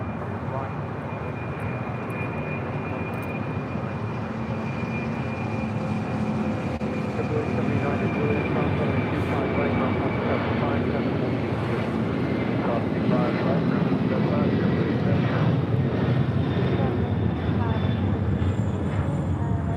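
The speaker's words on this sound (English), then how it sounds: "7552 taking off to Honolulu on a 747-400 freighter." A Qantas Freight Boeing 747-400 freighter takes off at LAX bound for Honolulu, its jet engines producing a loud, continuous broadband roar that builds slightly over about twenty seconds, with people talking intermittently over it.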